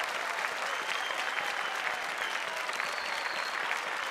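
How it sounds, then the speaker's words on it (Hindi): Sustained audience applause on a Bhojpuri television game show set, steady and full throughout with a dense crowd of clapping hands and no break. "तालियां"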